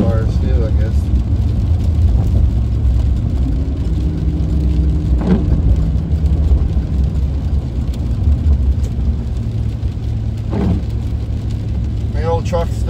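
A truck camper cruises along Highway 1 on a rainy day, a continuous loud road rumble and engine drone with no break across the whole stretch.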